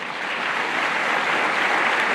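Audience applause fills a large hall at the 2024 Watchtower annual meeting of Jehovah's Witnesses, a steady, dense wash of clapping from a big crowd that holds at an even level throughout.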